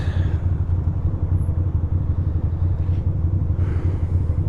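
A Vespa scooter engine in city traffic gives a steady, close, low rumble that holds evenly throughout with no talk.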